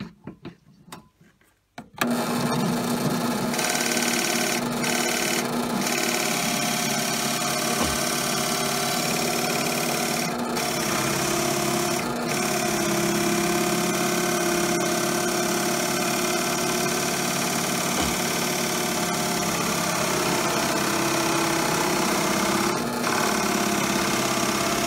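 A drill bores with a Harbor Freight Forstner bit: after a brief quiet start, a loud, steady motor whir with a rough grinding texture holds continuously to the end.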